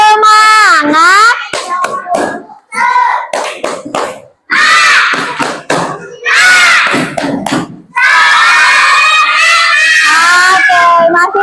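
A classroom of children performing a rhythmic clapping cheer, with bursts of patterned hand claps mixed with loud shouted chanting voices, close and energetic throughout.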